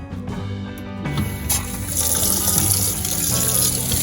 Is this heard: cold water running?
yes